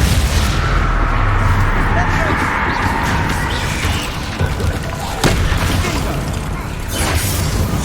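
Bombarda spell blasts in the Hogwarts Legacy video game boom and crash loudly amid dense combat noise, with one sharp burst standing out near the middle and shouted spell incantations mixed in.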